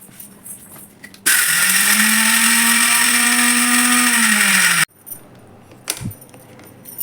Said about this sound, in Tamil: நல்லா அரைச்சிட்டு வந்து காமிக்கிறேன்